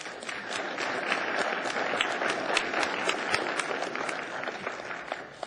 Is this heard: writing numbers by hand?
no